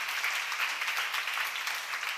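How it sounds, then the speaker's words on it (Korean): A church seminar congregation claps together on cue, a dense, steady patter of many hands filling the room without a break. "박수로 하나 둘 셋"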